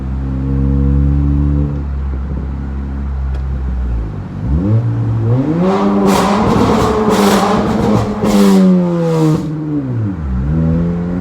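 A 2019-2020 Honda Accord Sport 1.5T with resonator delete revs hard from a steady drone, its pitch sweeping up and down repeatedly through several loud pulls with a raspy, resonant exhaust tone.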